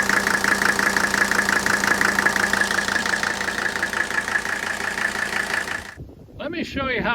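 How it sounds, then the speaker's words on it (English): A healthy 1983 Mercedes OM617 turbo diesel idles with its characteristic ignition knock, a steady close rapid clatter that cuts off abruptly near the end, followed by a brief voice. "That's the sound of a very healthy ignition fire knock sound that these OM617 turbo diesels produce when they're healthy."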